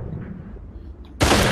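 A single sharp gunshot cracks loudly near the end after a quiet stretch in the VR game Population One, its burst dominating the moment.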